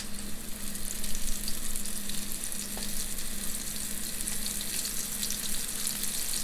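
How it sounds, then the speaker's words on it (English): Meatballs sizzle and crackle steadily in hot olive oil close up, a continuous frying hiss with small pops and no talking. "You see that good sizzle?"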